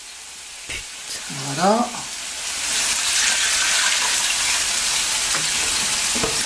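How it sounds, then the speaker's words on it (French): Beef broth poured into a hot pan for boeuf bourguignon, the sizzle swelling into a loud, steady hiss of frying after a brief spoken word and a few stirring clinks. "Je vais rajouter un peu de bouillon de bœuf."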